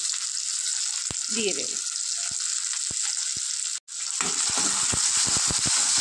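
Tomato and onion fry for a tomato and coriander dal, a steady close sizzle with scattered spatula taps, a brief spoken phrase and one short drop to silence midway.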